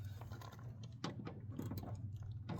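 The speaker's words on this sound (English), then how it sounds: "Quarter drive ratchet, extension." Quarter-inch drive ratchet with an extension turning 5/16 bolts on a 2006 Dodge Magnum headlight, giving soft rapid clicking bursts over a low steady hum, fairly faint and close.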